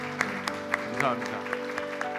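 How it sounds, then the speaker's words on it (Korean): A church congregation claps in welcome during a Sunday worship service, a moderate, fairly even patter of applause over a sustained tonal hum, likely organ or keyboard, with distinct sharper claps standing out. "우리 이재빈 형제님 잠깐 일어나시면 뜨거운 박수로 환영하겠습니다"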